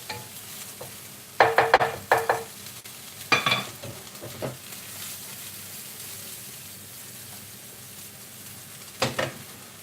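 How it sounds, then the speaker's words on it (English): Chopped spring onion sizzles in a little oil in a pan, a soft steady frying hiss broken by several louder bursts of stirring and scraping. "Now the sizzling,"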